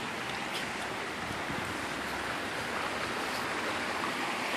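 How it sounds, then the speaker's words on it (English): A small waterfall hidden behind reeds gives a steady, even rushing hiss of falling water, moderately close and unbroken, with no talking. "Looks like there's another waterfall behind those reeds."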